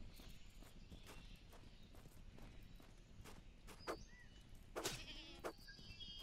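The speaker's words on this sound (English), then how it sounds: "Goat. Fuck you, goat." A goat in the game Wild Terra 2 bleats a few times in short cries, the loudest near the end, over soft footsteps and a faint outdoor ambience.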